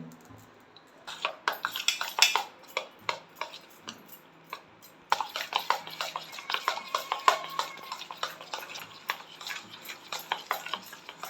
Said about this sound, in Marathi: तेल घातल्यावर पीठ परत एकदा मी फेटून घेते आहे